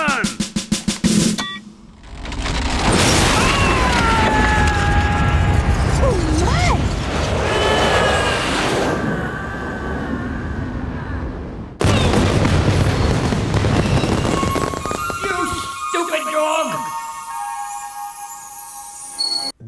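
Cartoon explosion from Courage the Cowardly Dog as money made of secret experimental rocket fuel blows up after a countdown: a loud, sharp broadband blast, then a sustained roar with music and sound effects, and a second burst near the end.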